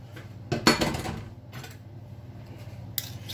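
Butter, half a cup of it, is scraped off a metal utensil in a home kitchen while baking a vanilla cake, giving a few short clinking, scraping strokes followed by quieter rubbing.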